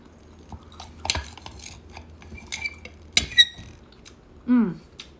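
A knife and fork clink and scrape against a plate while someone eats an overcooked steak, producing a few scattered sharp clinks and one squeaky scrape amid quiet pauses.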